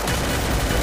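MP5 submachine gun fire in the battle royale game Free Fire: a dense, loud burst of rapid shots that fills the whole moment without a break, with no voices over it.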